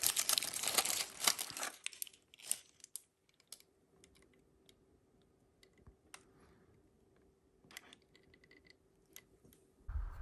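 A food package for chicken nachos is torn and crinkled open up close, with loud rustling and ripping in the first two seconds, then scattered soft crinkles and clicks alone.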